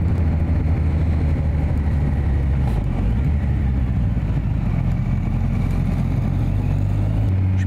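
Motorcycle riding along a country road near Lierneux, a steady engine drone with wind rumble, close and loud, holding a fairly constant pitch with slight rises and falls throughout.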